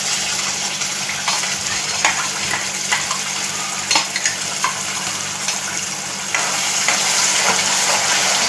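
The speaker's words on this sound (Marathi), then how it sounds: "तर तेल आपलं गरम झालं चांगलं की ही वाटून घेतलेली ग्रेव्ही आहे ना आपण मसाला तो घालायचा त्याच्यामध्ये" Ground masala gravy for a Kokan-style cashew curry fries in hot oil with a dense, continuous sizzle and occasional stirring clicks, growing slightly louder toward the end, over a low steady hum.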